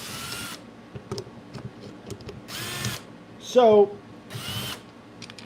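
A power drill drives short and longer screws into a workpiece in three short, loud whirring bursts separated by pauses, with brief talk and a faint squeal in between.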